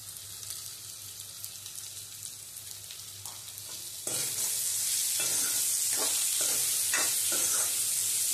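Turmeric and cumin powder sizzle in a hot pan for a meat curry with sesame paste, a quieter fry at first that jumps into a loud steady sizzle with scraping stirring strokes, no talk.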